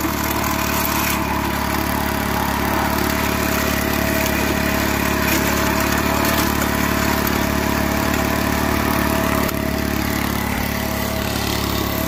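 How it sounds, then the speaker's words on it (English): Small gas engine of a gold prospecting dry washer running steadily throughout, a constant mid-pitched drone with a low throbbing hum, fairly loud and alone with no talking. "You can tell this is a small dry washer."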